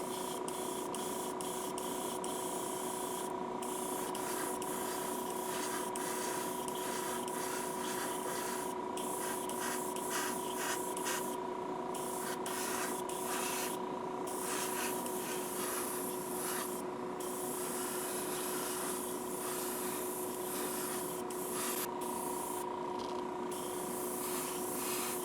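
Badger airbrush spraying red paint onto a Hot Wheels car, a soft steady hiss over a constant compressor hum, with short bursts of spray stopping and starting throughout.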